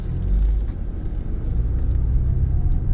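A car's low engine rumble and road noise drone steadily from inside the cabin, loud and continuous, with no talking.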